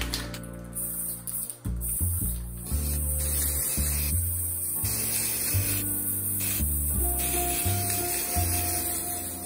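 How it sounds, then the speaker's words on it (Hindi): An aerosol can sprays paint onto a slim focus lamp for thin wall partitions in continuous hissing bursts with short breaks between them, heard up close under steady background music. "जैसे कि अभी स्प्रे पेंट कर रहा हूँ तो एक साथ।"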